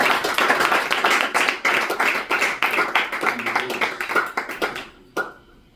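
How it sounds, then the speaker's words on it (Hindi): Church congregation clapping loudly during a Sunday sermon, a dense run of quick hand claps that gradually thins into separate slaps and ends in one last sharp clap before a brief quiet. "एक जोरदार ताली लगाएं प्रभु यीशु मसीह को पकड़ने के लिए।"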